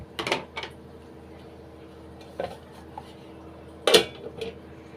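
A metal pan of snake gourd kootu, seasoned with salt, gets covered with a plate, giving a few sharp, close clinks of plate on cookware with quiet stretches between them.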